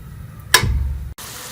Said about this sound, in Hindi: अब इसमें मैं आधा कप के करीब जो है वो पानी शामिल कर लेंगे